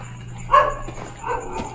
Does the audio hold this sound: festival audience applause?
no